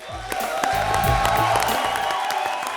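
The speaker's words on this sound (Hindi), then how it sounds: "और तालियां एडवांस" A studio audience on a Hindi comedy show claps and cheers continuously, a dense, loud wash of applause with whoops riding over a low musical bed, steady throughout.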